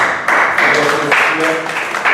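An audience at a Mussafah Toastmasters meeting applauds in a dense, steady burst of clapping that fills the room, with a voice faintly audible underneath.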